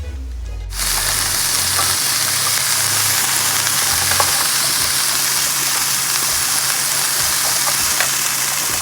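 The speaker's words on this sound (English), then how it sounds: "I'm about to saute these onions and bell pepper" Onions and bell pepper sauté in a hot pan for a chicken spaghetti, a steady loud sizzle filling the whole stretch after a brief low thump at the start, with no talk over it.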